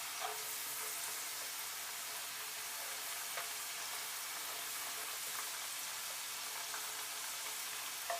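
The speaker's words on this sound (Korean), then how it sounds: "160도 정도로 잠길 정도로 감자가 이렇게 튀겨주시고요" Potatoes deep-frying in cooking oil at about 160 degrees, fully submerged, as a side for sirloin steak: a steady, dense crackling sizzle with scattered sharper pops, even and continuous throughout with no voices.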